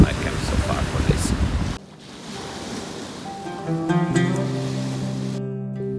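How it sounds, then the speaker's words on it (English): Wind buffeting the microphone on the Dead Sea shore in Jordan, with loud gusts at first, then quieter water and tonal background sounds. "the Dead Sea is right behind me"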